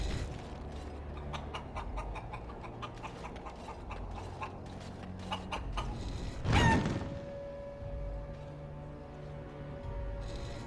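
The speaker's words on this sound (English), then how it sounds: "That was a chicken." A chicken clucks in Dragon Age: Origins, a series of faint, quick clucks followed by a single louder burst, over quiet game ambience.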